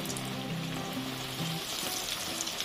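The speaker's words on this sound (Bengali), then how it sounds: "এটা একটু মিডিয়াম আছে ভাজতে হবে, নালে তাড়াতাড়ি লাল হয়ে যাবে।" Paneer cutlets fry in a pan over medium heat, giving a steady, close crackling sizzle of hot oil throughout, with no talking.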